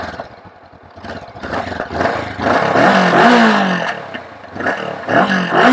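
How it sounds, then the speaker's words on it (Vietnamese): Honda CB500X 2019 two-cylinder motorcycle revving through its exhaust, a loud, sharp engine note swelling and falling in several surges with no talking. "cái tiếng ống xả này khá đanh, phải không ạ?"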